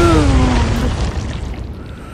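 A torpedo strikes a ship in the submarine game Uboat Attack, giving one loud, deep boom that rolls off into a fading rumble, with no other sound over it.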